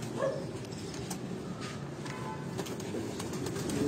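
Breeder pigeons at a loft in Kasur coo softly amid a steady wash of low background noise, with scattered faint calls rising over a constant hum.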